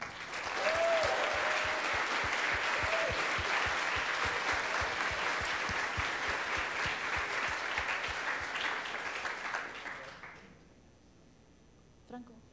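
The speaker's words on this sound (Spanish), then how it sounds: "También un fuerte aplauso para el equipo Aesthetic de la Universidad Estadual de Campinas" A large crowd applauds at an ICPC Latin America programming championship closing ceremony, with sustained, loud clapping for about ten seconds, brief tonal sounds near the start, then fading to quiet.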